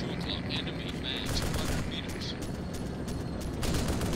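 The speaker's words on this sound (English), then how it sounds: "I don't think me shooting a tank will do anything." Dense, continuous gunfire crackles in an Arma 2: Operation Arrowhead battle against a tank, loud and sustained with overlapping rifle shots and bursts, while voices talk faintly underneath.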